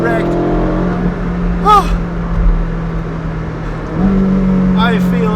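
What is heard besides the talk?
Ferrari 458 Speciale engine with Novitec exhaust accelerating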